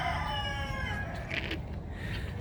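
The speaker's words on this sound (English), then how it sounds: "Oh, look at that, a rooster." A rooster crows once at moderate distance on a morning farm, the call rising then trailing off, with faint background noise around it.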